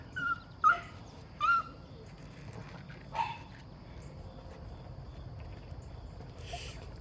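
Wolf puppies being weaned let out several short, high whimpers at their mother in quick succession, followed by quieter rustling and an occasional faint whine.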